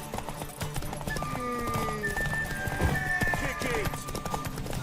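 In The Witcher 3, a horse gallops in a race with rhythmic clip-clop hoofbeats and a whinny, set against a busy game mix of music and effects, while voices call out over it.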